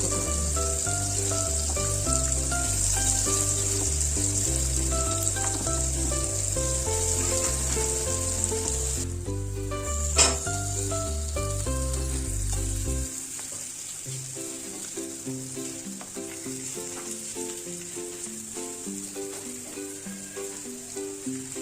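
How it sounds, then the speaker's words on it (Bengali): Teasel gourd pieces fry in oil in a kadai, producing a continuous sizzle beneath background music, with one brief sharp clatter midway. "কড়াইতে তেল দিয়ে কাঁকরোলগুলো ভালো করে ভেজে নিই।"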